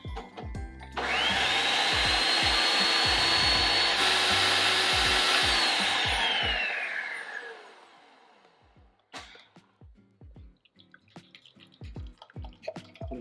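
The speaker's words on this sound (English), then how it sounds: "We're gonna go ahead and puree this." Blender pureeing a softened, slightly thickened blueberry mixture, a loud whirring run of about six seconds that winds down, followed by scattered clinks and knocks.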